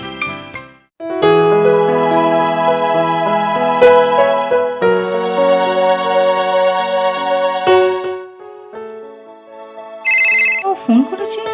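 A mobile phone ringtone bursts in near the end as a loud, bright repeating electronic tone, cutting in after steady background film music.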